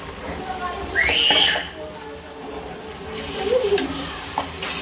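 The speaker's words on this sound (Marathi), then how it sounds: "याच्यामध्ये थोडासा मसाला छान आपल्याला असा भाजून घ्यायचा" Masala of salt, turmeric, biryani masala and red chilli powder roasting in a pan for mushroom biryani, with a steady sizzle and stirring scrapes, a brief whistling tone near the start, and faint background noise throughout.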